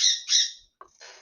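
Two loud, harsh bird squawks close by, followed by a short chirp and a raspier call, with near silence between.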